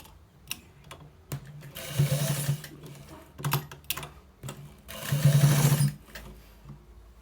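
Sewing machine stitching lace into a trouser waistband, running in several short bursts of rapid mechanical whirring and clatter separated by pauses, fairly close and clear with no talk.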